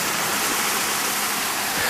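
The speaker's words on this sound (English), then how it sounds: "I can hear the river water." Steady broadband rush of river water flowing nearby, continuous and fairly loud with no voices over it.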